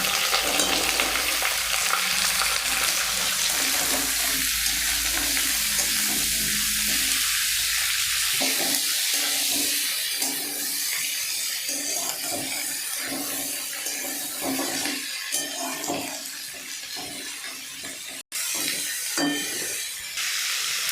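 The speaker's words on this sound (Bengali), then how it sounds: "পেঁয়াজটি আধো আধো ভাজা হয়েছে। এখন আমি এর সঙ্গে দেব যে সবজি কেটে রেখেছিলাম সেই সবজি।" Sliced onion and chopped Malabar spinach fry in a pan with a steady, loud sizzling hiss, stirred now and then, sounding denser and wetter once the vegetables go in about halfway.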